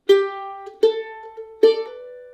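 Bluegrass mandolin picking measure 3 of Angel Band: three bright, sharply plucked quarter notes, each ringing briefly with a metallic twang, close and alone with no voice.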